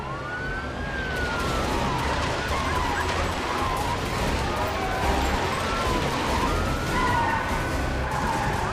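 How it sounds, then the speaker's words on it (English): Police car sirens wail in a chase in The Amazing Spider-Man video game, overlapping rising and falling tones over a dense, loud background of traffic and city noise throughout. "I'm going to kick off a police car chase in the nearby area."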